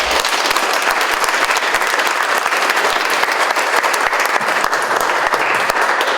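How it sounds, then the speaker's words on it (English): Loud, sustained applause from an evening audience at a Kittitas County primary candidate forum in Roslyn, dense clapping filling the room without a break. "Please give them a round of applause."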